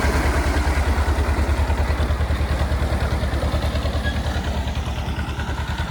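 A Sonalika or Mahindra tractor's diesel engine runs steadily nearby with a loud, fast regular chugging throb that holds even throughout, during mud work.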